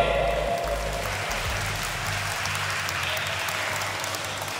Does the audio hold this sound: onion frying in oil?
no